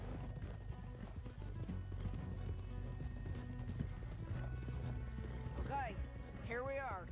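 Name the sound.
horses' hooves, from video game Red Dead Redemption 2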